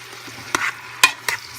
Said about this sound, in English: So I'm going to stir that in until it cooks and get that pink cooked color.